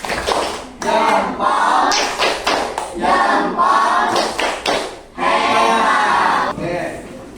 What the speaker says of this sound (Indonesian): Ayo, tepuk hebat.